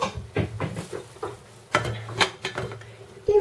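Pot and lid clatter near a pot of dried-fruit compote stewing on low heat: a handful of close metallic knocks and scrapes in an irregular run, moderately loud, with a brief tonal ring at the end.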